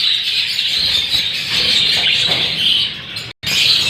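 Hongoromo budgies chirp in a cage, a dense, steady chatter of high tweets from several birds, close and continuous with only a momentary break.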